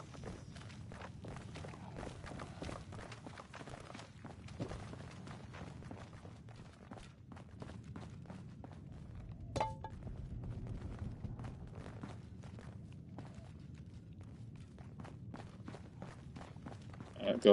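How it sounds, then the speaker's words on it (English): Footsteps in the video game Fallout 76 sound as a faint, irregular series of soft thuds over a low ambient rumble, continuing steadily with a few sharper knocks, no talk. "I hear footsteps."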